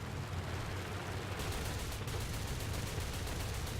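Gunfire in the War Thunder video game comes as a dense, continuous rattle of rapid shots with rumbling low explosions, steady and fairly loud throughout with no talking.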